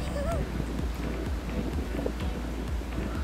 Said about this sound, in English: The wind's picked up a bit more